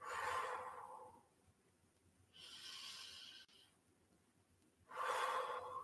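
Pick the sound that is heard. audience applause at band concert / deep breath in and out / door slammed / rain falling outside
deep breath in and out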